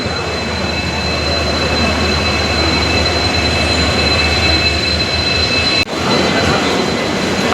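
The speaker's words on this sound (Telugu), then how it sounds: "ఇవన్నీ చాలా లాంగ్ వెళ్ళే ట్రైన్స్ అనమాట ఇవన్నీ" Long-distance trains at Chennai railway station: a loud, continuous rumbling roar of rail and engine noise with steady high tonal whines, briefly cut by a sharp clunk near the end, with no talking.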